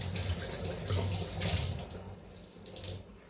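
Tap water pours onto an old white cotton cloth in a kitchen, a steady close rush of running water for a few seconds.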